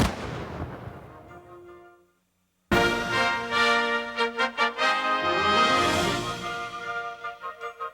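Civil War artillery cannon fire, loud booming blasts that burst in after a brief silence, followed by a run of repeated reports and rumbling echoes.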